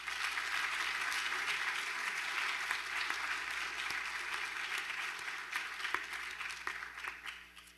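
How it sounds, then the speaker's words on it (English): Steady audience applause at a first-generation student graduation ceremony, a broad wash of many hands clapping, sustained throughout and slowly thinning toward the end. "Dr. Sellers one more round of applause."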